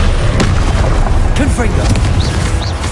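Confringo spell blasts in Hogwarts Legacy, several booming explosive hits over a thick low rumble, loud and near, with vocal-sounding cries and effects woven through the combat noise.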